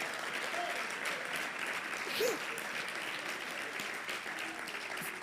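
A church congregation applauds, a steady, fairly distant and quiet spread of clapping with a few voices and a brief shout rising through it.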